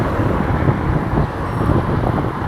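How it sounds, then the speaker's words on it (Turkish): A steady, loud rush of wind roars across the microphone while cycling on Uludağ near Bursa, a constant low buffeting with no voices. "acayip bir rüzgar yakaladık sanırım"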